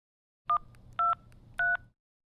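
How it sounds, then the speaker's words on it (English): An office phone dials an emergency number: three short keypad tones, evenly spaced and clear, over a faint low hum. "used the office phone to call the emergency number"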